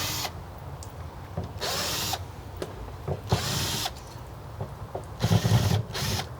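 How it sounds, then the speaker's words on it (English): A cordless drill backs screws out of the access door on a Girard tankless water heater, firing in several short bursts of high whine separated by pauses, close and loud. "thank God for cordless drills"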